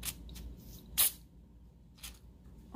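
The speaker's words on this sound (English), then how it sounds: "spray it with silicone spray" Silicone spray is spritzed onto nail polish in a few short, faint hissing puffs, one slightly sharper than the rest, separated by quiet pauses.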